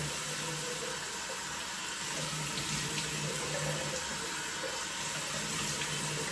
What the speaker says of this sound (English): We're gonna go ahead and start by washing off my face